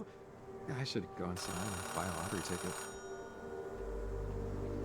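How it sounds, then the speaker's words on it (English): A payphone rings in the video game Oxenfree II, a steady electronic trill that runs under a man's speech for the first few seconds, then cuts off. "Payphone ringing in the wild?"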